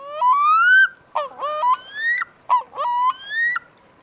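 Divers in a Russian Arctic forest call back and forth with loud, clear wailing honks, a few drawn-out rising and falling cries separated by short pauses, alone in a quiet setting.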